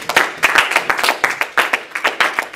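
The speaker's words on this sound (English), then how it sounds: "Let's give the Lord a hand clap of praise." A church congregation claps hands in praise, a close burst of irregular overlapping claps in quick rhythm with no talk.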